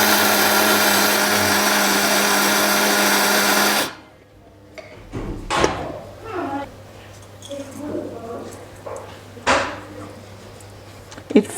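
A blender grinds loudly and steadily for a few seconds, then cuts off abruptly, leaving quiet room noise with scattered clicks and handling sounds.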